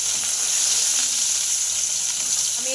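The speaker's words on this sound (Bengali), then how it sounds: "আলু ভাজার পরে তুলে দিচ্ছি পটল ভাজা" Slices of pointed gourd (potol) fry in hot oil in a pan just after potatoes, giving a loud, continuous close sizzle with no voices.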